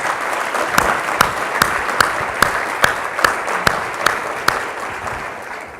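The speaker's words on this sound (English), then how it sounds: "Give yourself a round of applause" Audience applause at a welcome address for a patient-safety summit, a dense steady clatter of many hands with sharp individual claps popping out, sustained evenly then starting to thin toward the end.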